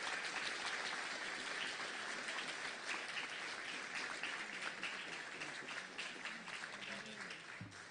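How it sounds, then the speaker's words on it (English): Sustained applause from an audience at a 2022 awards ceremony for outstanding government workers, dense steady clapping holding at an even loudness for the whole span with a voice briefly audible near the end. "Let's give a big round of applause to all our awardees."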